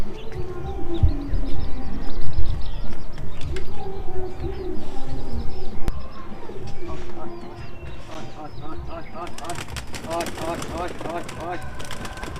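Pigeons coo and flutter close by as they are released from their rooftop coop, with muffled voices early on and a burst of busier calls and wingbeats toward the end.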